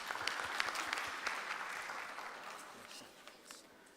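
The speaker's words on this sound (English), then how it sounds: "You can give a round of applause." Faint, steady applause from a university research day audience after a science presentation, a dense patter of clapping that slowly fades toward the end.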